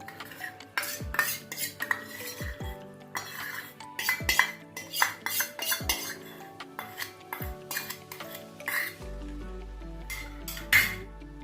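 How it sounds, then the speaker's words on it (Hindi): Afghani chicken karahi gets a spoon stirred through it in a metal pan as cream is mixed in, giving irregular close clinks and scrapes of metal on metal with soft pauses between strokes. "क्रीम डाल के इसको अच्छा सा मिक्स करेंगे।"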